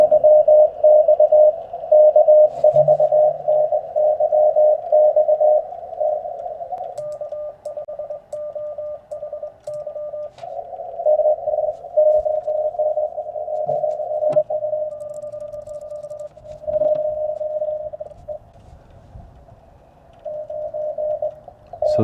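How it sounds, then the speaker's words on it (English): A steady radio tone carries faint Morse-like keying from a Parks on the Air amateur station, received on a quarter-wave antenna, through background static and hiss, with brief crackles and small dropouts. "I'm listening to a POTA station right now"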